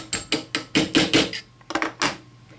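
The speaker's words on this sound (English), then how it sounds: "We're going to go ahead and just tap in this hinge pin now." A small hammer taps a hinge pin into a Kel-Tec RDB rifle trigger assembly: about a dozen sharp metallic clicks, close and bright, in an irregular run with a short pause partway through.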